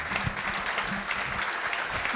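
Steady applause from an audience after a talk on coral reef conservation, many hands clapping at a fairly even level, with a voice faintly underneath.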